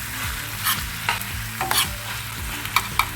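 Onions sautéing in a pan, with repeated scraping strokes of a spatula stirring them in a rhythmic pattern over a soft continuous sizzle, close and clear with no talk.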